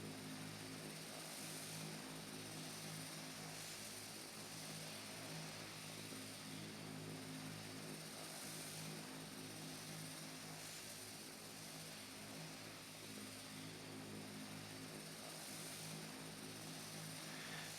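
A Piper Arrow's single propeller engine in a flight simulator drones steadily with a constant loud hum and layered harmonic tones, continuous and unchanging, with no talk.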